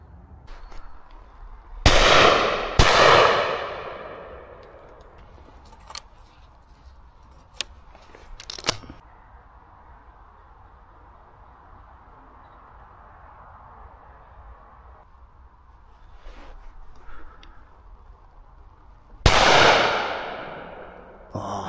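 Shotgun shots at flying pigeons on a private estate: three sharp, loud blasts with ringing decay, two close together early and one near the end. Faint outdoor ambience and small clicks fill the quiet stretch between them.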